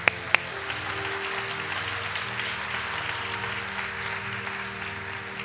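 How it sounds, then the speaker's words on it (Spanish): A church congregation applauds the Lord during a bilingual service, an even, soft wash of many hands clapping over a low sustained hum, with two sharp knocks right at the start. "Eso merece un aplauso al Señor."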